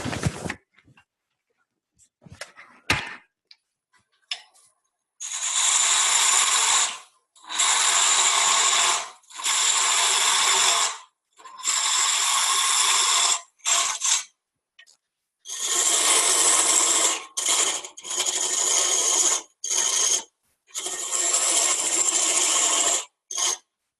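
Wood being parted off on a lathe while sizing a mallet, heard as loud, sustained raspy cutting bursts of a few seconds each, separated by short pauses, with a few faint clicks at the start and no talk.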